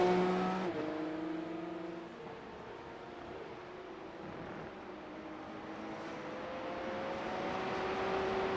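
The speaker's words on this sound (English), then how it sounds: "Brian and Dana are just racing each other right now." Porsche Cup race cars lapping the Barcelona circuit in a racing video game, a steady drone of several engines with rising and shifting revving tones, continuous and fairly close, with no talking.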